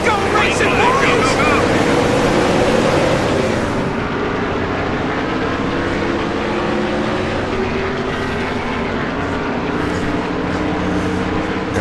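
Race cars pulling away at the start of a race in NASCAR Thunder 2003 at Pocono, a loud dense engine roar with rising pitch that settles into a steady drone.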